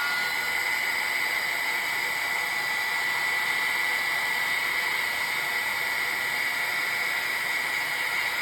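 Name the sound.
heat gun blowing to dry watercolor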